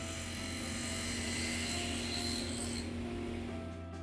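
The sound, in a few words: table saw cutting spline grooves in box frame on jig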